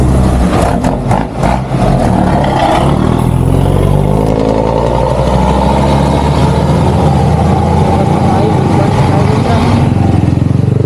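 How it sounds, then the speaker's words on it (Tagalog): Trucks and other traffic rumble along a road behind a solo rider travelling from Rosales, Pangasinan to Caloocan, a loud steady engine drone with revving, under some talk. "Paano yung mga truck sa likod natin?"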